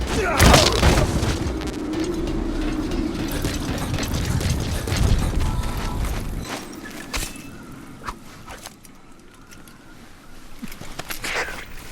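An unsuppressed gun fires in Metal Gear Solid V: The Phantom Pain after its worn-out suppressor fails. A loud, close boom comes near the start, followed by rumbling game ambience and faint voices.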